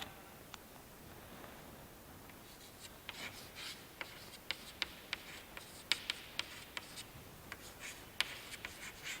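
Chalk or marker scratching and tapping on a board during a physics lecture on thermodynamics, a quiet series of short, sharp ticks and strokes with no talking.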